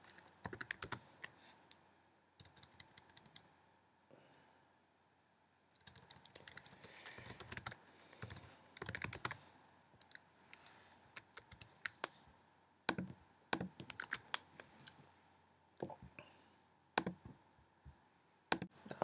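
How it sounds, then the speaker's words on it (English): Quiet clicking keystrokes on a computer keyboard as code is typed, coming in irregular bursts with short pauses, close and alone. "we're going to type protected and void"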